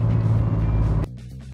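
A De Tomaso Pantera on a mountain drive gives a loud, steady engine drone that cuts off sharply about two-thirds through, leaving a quieter low idle rumble.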